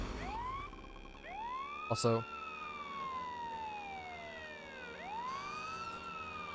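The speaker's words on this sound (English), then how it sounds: "Up, police motorcycle. Hear that baby roar." A police motorcycle siren in a Lego Marvel video game wails, sweeping up and down steadily with a short burst of chirping tones near the start and a brief spoken word.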